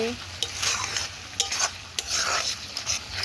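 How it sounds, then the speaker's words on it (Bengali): Meat cooking with green chilies and spices, stirred in a pan with low oil: a steady sizzle under repeated scraping strokes of a spoon against the metal, close and moderately loud, with no voices. "কাঁচা লঙ্কা দিয়ে মাংস রান্না হচ্ছে মশলা কষা চলছে"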